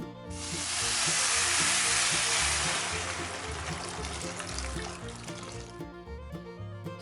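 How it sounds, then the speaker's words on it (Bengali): Rice and raisins for sweet yellow polao fry in a hot pan with a loud, dense sizzle that swells quickly, holds steady, then gradually fades. "কিশমিশ দিয়ে দেওয়ার পরে আবারও দু মিনিট একটু ভেজে নিব"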